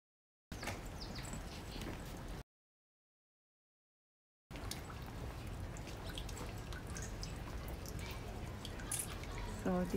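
Water drips and trickles from a dragon spout at a Tokyo shrine, a faint, steady splashing outdoors, cut by a short silent gap early on.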